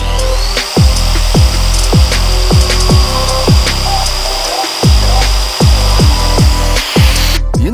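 Edge milling machine with indexable inserts cutting a bevel into metal, loud repeated juddering bursts with a steady high whine behind them, each pass starting and stopping in a rough, uneven rhythm.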